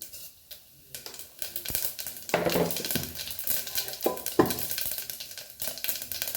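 Mustard and cumin seeds hit hot oil in a pressure cooker, giving a close, crackling sizzle that swells after a quiet start, with scattered pops and a few clinks of a utensil against the pot.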